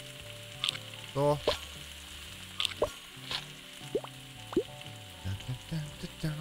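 Raw burger meat frying on a stove in the video game Galaxy Burger, with bursts of sizzling, dripping and plopping sounds coming in short uneven spurts, briefly under a spoken word.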